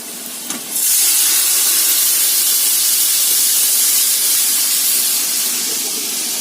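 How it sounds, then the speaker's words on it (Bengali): Hot tempering with fried onion poured into boiled arhar dal, a sudden loud hissing sizzle that bursts in and holds steady, close and continuous. "চলো এটা এবার ফোড়ন দিয়ে দিই।"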